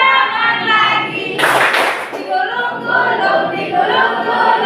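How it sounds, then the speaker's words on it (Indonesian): Hands clap during a children's action song sung in Indonesian, a short burst of clapping heard between stretches of sung melody, with singing continuing before and after. "Buka tutup, tepuk tangan lagi."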